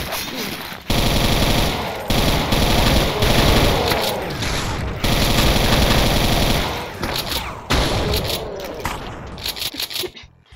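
Loud, dense automatic gunfire from the Brutal Doom video game, with long sustained bursts broken by brief gaps and ending in scattered shots, with voices faintly underneath.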